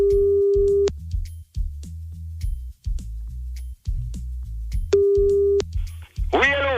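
A telephone busy signal after redialing a dropped call: repeated steady tone bursts sound twice with a gap between them, over a low background and some talk, with a short chirping sound at the end.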